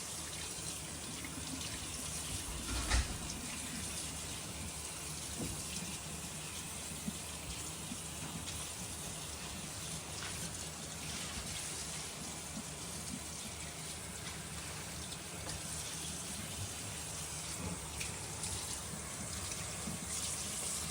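Water from a tap splashes steadily over freshly cleaned catfish from the Chattahoochee River, a continuous rinsing gush with no talk.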